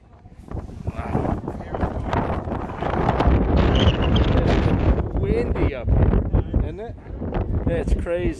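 Strong wind buffets the microphone high on an open observation deck about 1,131 feet above New York City, a loud rushing roar with gusts, while people talk nearby.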